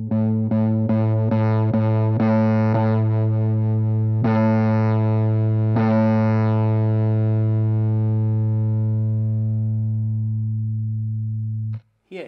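A single distorted guitar note with a gritty, buzzing edge that slowly decays into a smooth, clean tone, with a few rhythmic plucked accents early on.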